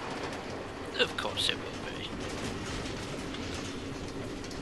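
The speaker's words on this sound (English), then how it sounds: "Automated train tracks running all through the Nether, connecting all the different order members?" Trains run on automated tracks through the Nether in the Minecraft Story Mode game, a steady rumbling, rattling noise that continues throughout under a brief spoken line.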